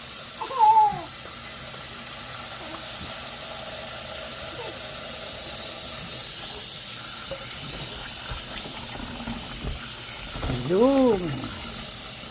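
Running water hisses steadily while pork is washed, a continuous soft rush with brief voices speaking over it.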